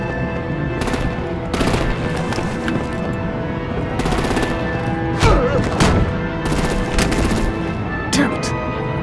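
Rapid artillery and gunfire bursts from the Batman: The Enemy Within video game ring out loudly in repeated volleys over a dense, busy game soundtrack.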